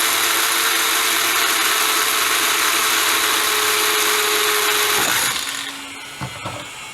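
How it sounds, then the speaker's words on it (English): An electric drill whirs loudly and steadily for several seconds while drilling through a plastic bucket, then winds down, followed by a few light knocks and handling sounds. "And I'll just drill all the way around."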